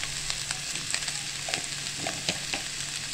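Vegetables stir-fried with salt in a pan for a vegetarian thali, a steady close sizzle with scraping stirs at intervals and no voices.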